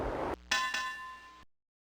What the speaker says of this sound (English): Keep ringing the bell, I guess.